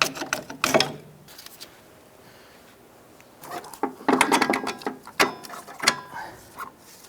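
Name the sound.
removing bolts holding Ford Escape strut to knuckle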